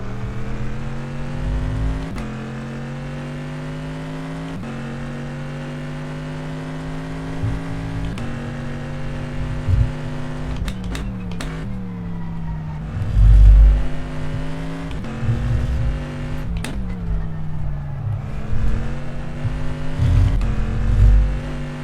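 DPi prototype race cars from the rFactor 2 racing game, with a loud, close engine whine that climbs through the gears and drops sharply at upshifts and braking, repeating lap-style over a steady roar.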